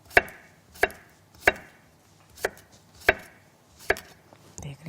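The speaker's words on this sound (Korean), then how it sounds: "오이는 그냥 동글 납작하게 썰어 주시면 되고요" A knife slicing fresh cucumber into thin rounds on a cutting board, seven or eight crisp evenly spaced chops about every two-thirds of a second, close and clear with no talking.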